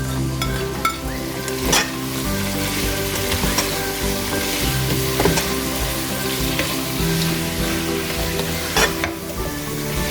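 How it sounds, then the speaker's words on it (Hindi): Ginger chicken with thick green chillies and chopped coriander frying over high heat in a pan, a loud, continuous sizzle with occasional stirring scrapes and clinks, no voices. "एक मिनट के लिए थोड़ी सी तेज़ आंच पर भूनेंगे"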